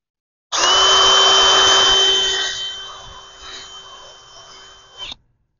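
Power drill boring a hole into an avocado tree trunk, a loud high whine that starts abruptly, eases in pitch and loudness as the bit sinks into the wood, then stops.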